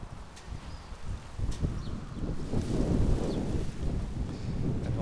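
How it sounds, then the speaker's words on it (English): Strong wind buffets the microphone at Mangel Halto Beach in Aruba, a rumbling, gusty roar that swells and stays loud throughout, with no one speaking. "Now it is very windy again"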